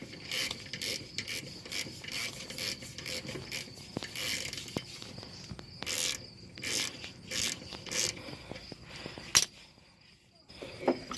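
Rapid ratcheting clicks from a hand ratchet loosening a rear brake caliper guide pin on a 2010 Dodge Avenger, in quick repeated bursts with short pauses, fairly close and steady, with no voices.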